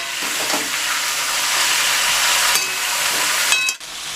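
Vegetables with drumsticks frying in oil for Bengali shukto, a loud continuous close-up sizzle and hiss with slight scraping near the end.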